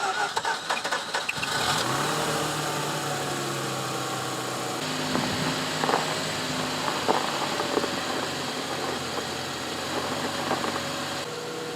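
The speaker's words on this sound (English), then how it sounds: "So I'm going to go ahead and start the car and see if that signal goes away." A Mazda RX8 with a power steering fault (code B2278) cranks and fires up nearby, then settles into a steady rotary idle hum that carries on to the end with no talk.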